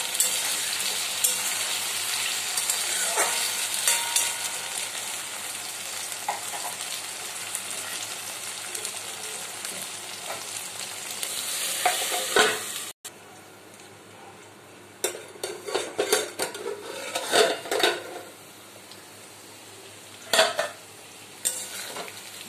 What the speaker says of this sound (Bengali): আলুটা যখন আমি ভাজবো একটু নুন দিচ্ছি, যাতে আলুটা তাড়াতাড়ি নরম হয়ে আসে।